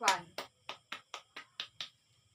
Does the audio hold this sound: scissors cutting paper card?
no